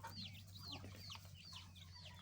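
Hens clucking in a backyard flock that mixes old hens with younger, smaller birds, with repeated short clucks and calls close by over a steady low hum.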